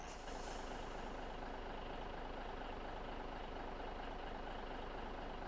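In Farming Simulator 17, a truck trailer folds up to a steady mechanical hum and a faint hiss of air, with no other sounds standing out.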